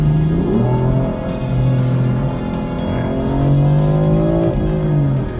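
A BMW M4 downshifts hard, engine note rising and falling through gear changes while tires squeal, loud and close, with no talk.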